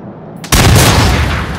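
Gunfire from the video game Until Dawn erupts after a brief quiet lead-in: a loud, sudden blast followed by a sustained, rumbling roar of repeated shots that trails off slowly, with no voices.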